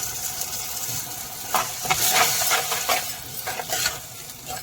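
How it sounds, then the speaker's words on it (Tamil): Ground tomatoes and onions sauté in oil with a little salt, giving a close, steady sizzle broken by several scraping stirs of a spoon through the pan. "இப்போ தக்காளி வெங்காயம் எல்லாம் நல்லா வதங்கி வரட்டணும்."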